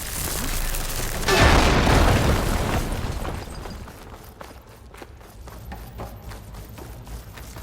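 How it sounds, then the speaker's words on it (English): A loud explosion in Horizon Forbidden West bursts in with a rumbling boom that swells and slowly fades, followed by scattered footsteps and rustling in the game world. "An explosion."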